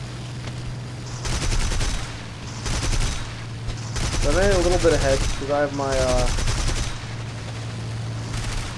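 In War Thunder, a German aircraft fires its cannon and machine guns in several bursts of rapid fire a second or so long, with someone talking over the shooting.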